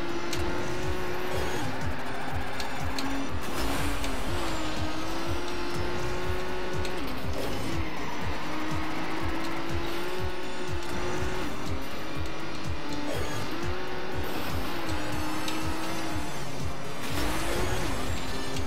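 A car drifting in Trackmania Turbo, a loud, steady engine whine rising and dipping with shifts and tire noise, continuous and close throughout without talk.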